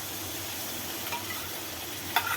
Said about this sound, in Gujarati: હવે આપણે ટમેટાની પ્યુરી નાખશું